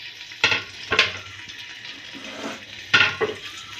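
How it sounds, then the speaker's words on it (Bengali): Ghee and a little white oil sizzle in a pan while cooking pulao, with several sharp bursts of frying hiss standing out over a quieter steady crackle, close and fairly loud. "এখানে পরিমাণ মতো ঘি ঢেলে দিলাম, হালকা পরিমাণ সাদা তেল"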